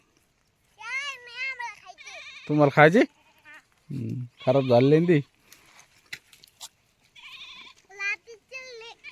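Goats bleat in short wavering cries, mixed with someone talking and other voices nearby; one goat is being fed watermelon and has a foot ailment.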